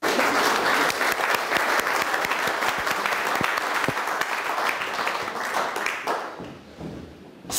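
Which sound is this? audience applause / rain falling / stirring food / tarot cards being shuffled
audience applause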